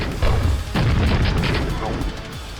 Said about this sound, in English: Using the grenade launcher, not only does it jib them in a shower of explosions and particles